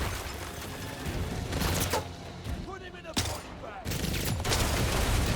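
Submachine gun fire in the video game First Light, rapid bursts of shots over a dense, busy game soundscape, with loud broadband bangs around the middle and near the end, likely mixed with talk.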